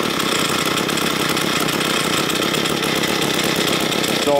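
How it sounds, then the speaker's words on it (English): A small two-stroke engine runs loud and close after a carburetor adjustment, with a continuous buzzing drone at steady speed. "the engine is going to run at lower speed, or it should be running at lower speed."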